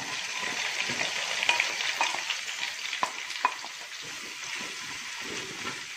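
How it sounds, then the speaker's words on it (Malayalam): Five medium sliced onions frying in browned oil for a Kottayam-style beef roast, a continuous crackling sizzle with repeated stirring scrapes and clinks of the spoon against the pan. "നമുക്കിനി ഇതിലേക്ക് സവാള ആഡ് ചെയ്ത് കൊടുക്കാം"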